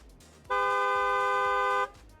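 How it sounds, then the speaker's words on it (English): A short car horn alert plays as a stream sound effect: one loud, steady honk lasting about a second and a half, alone, against faint background noise. "A little car horn sound."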